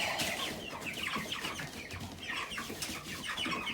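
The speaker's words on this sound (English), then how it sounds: "I've not even fed them, that's why they're squawking." Meat chickens squawk and cluck in a shed, a busy, overlapping chorus of sharp calls and chatter that goes on continuously at moderate distance.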